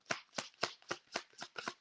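Tarot cards being shuffled by hand, a run of about seven evenly spaced crisp riffling bursts, close and alone.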